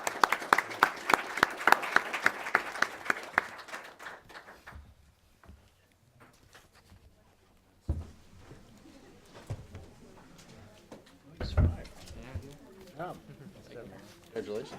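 An audience at a policy report launch claps briefly for the honoree, a burst of applause in the first few seconds that fades, followed by quieter room sounds and a few distant voices.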